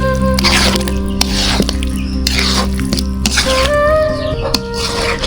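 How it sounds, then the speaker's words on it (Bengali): Chicken for a village-style deshi murgi bhuna goes into frying spice masala: loud, wet squelching and sputtering with bursts of splatter and occasional pan scrapes, close and continuous. "মশলার মধ্যে মাংস দেওয়া হয়ে গেছে।"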